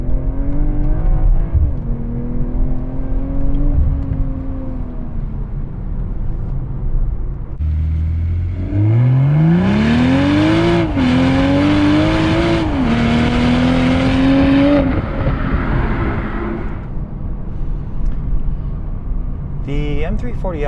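A BMW M340i accelerates while driving, its engine note rising steadily in pitch through a gear, dipping at a shift, then climbing again and easing off. The sound is loud and continuous from inside the car, with someone talking over it.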